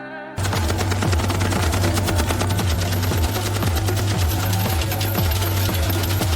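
Sustained, rapid machine-gun fire, loud and relentless, with rhythmic bursts over a dense roar of battle noise.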